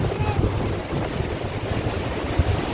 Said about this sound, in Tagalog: Strong waterfall.